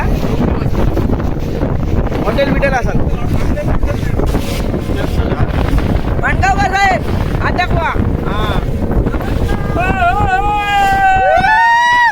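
Loud, continuous rush of water spraying from a moving boat on a sea safari off Nivati beach, with heavy wind buffeting and voices calling out over the noise.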